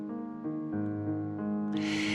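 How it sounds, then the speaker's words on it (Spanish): Low piano notes played with the left hand only ring out as sustained, overlapping chords in the bass register, alone and moderately quiet. "si utilizo únicamente la mano izquierda en el piano, suena así"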